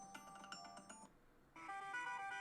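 A phone alarm plays a quiet melodic chime pattern, a few short bright tones followed by a sustained brighter tune, sounding faint and close.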